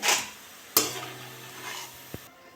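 Semolina sitabhog sweets fry in hot oil with a soft steady sizzle, broken by a sharp clank of a utensil against the pan and a few fainter scrapes and taps.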